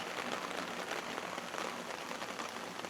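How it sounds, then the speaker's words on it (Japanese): Steady rain pours onto a melon farm field during a typhoon downpour, a dense, even hiss of drops close by with no voices. "ほぼ雨が降ってないような状態だったんですけど、また降ってきて、こんな感じですね。"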